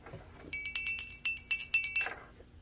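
A small household bell rings in a quick run of about ten bright metallic strikes, clear and close, with no talking over it.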